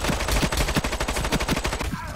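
A P90 TR submachine gun fires a rapid, sustained automatic burst in the shooter game Ironsight, a dense rattle of evenly spaced shots that cuts off just before the end.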